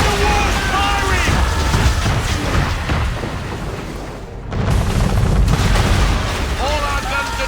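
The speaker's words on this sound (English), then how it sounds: "We're under attack! Man of war's firing!" Cannon fire and explosions from a man-of-war warship in the video game Assassin's Creed III, a loud, continuous barrage of booms and rumbling blasts that dips briefly at midpoint and then resumes at full force.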